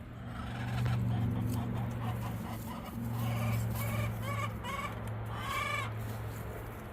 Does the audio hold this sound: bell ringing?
no